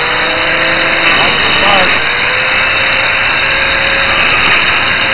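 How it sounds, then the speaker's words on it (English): An angle grinder cuts through steel with a loud, continuous whining rasp that sounds close and dominates throughout, with a brief voice underneath. "he's just gonna use that whizzer. It's gonna whiz them right off there."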